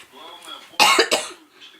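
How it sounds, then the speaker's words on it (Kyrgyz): A person coughs hard twice in quick succession, close and loud, with a little talk-like voicing just before. "Анан ушу жөтөлүм эле басылбай атыр да, жөтөлүм."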